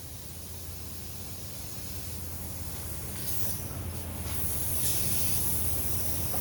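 A steady hiss of penetrating spray from an aerosol can, applied during CV axle replacement on an Infiniti I30, close and continuous, growing slightly louder over several seconds with no talking.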